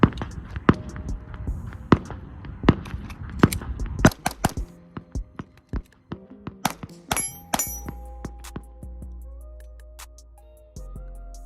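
Glock pistol shots ring out at a shooting range as fire shifts from steel targets to cardboard, with a string of sharp, loud, evenly spaced reports that grow quicker and more clustered, some followed by metallic pings.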